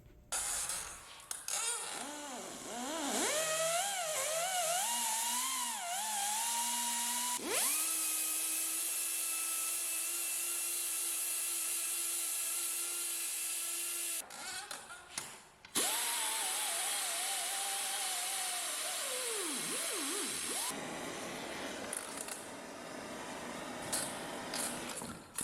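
A power tool whirs steadily on metal, polishing oxide off 1200cc two-stroke engine parts before welding; its pitch rises and falls under load, with brief pauses and a restart midway, close and loud throughout.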